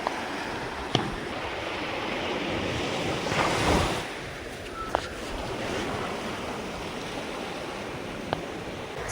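Sea waves surge and break steadily on a beach at dawn, a continuous loud wash of surf with wind buffeting the microphone and a few sharp knocks, no voices.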